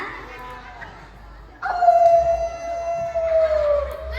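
A person imitates a wolf howl during an Isra Mi'raj activity with children, a long sustained wavering tone that slowly falls in pitch, loud and close over a murmuring room.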